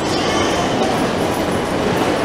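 Steady broadband rumble and hiss of an Osaka Higashi Line train running underground from Osaka Station's underground platform, continuous and enveloping, with no distinct voices.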